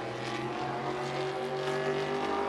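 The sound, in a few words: race cars at Berlin Raceway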